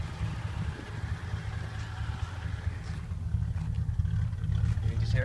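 A car engine idling cold with no choke, a quiet, smooth low hum that runs evenly throughout and grows slightly louder toward the end.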